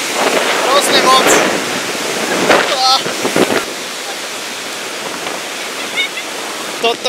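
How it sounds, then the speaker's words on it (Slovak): Heavy water roars and sprays down on people inside the Devil's Throat waterfall, a loud, constant wash close to the microphone with wind buffeting, while excited voices shout over it. "sme totálne mokrí, v diablovom hrdle, strašne veľa vody tu na nás špliecha"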